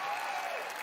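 Audience applause at an E3 2019 presentation, a steady wash of clapping at moderate volume through the brief moment.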